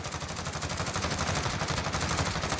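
M4A1 gunfire in the Warzone video game rattles in dense, loud bursts of rapid shots that run through the whole stretch without a break.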